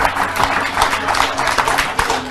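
A crowd applauding, steady clapping from many hands filling the space for a couple of seconds, fairly loud and close.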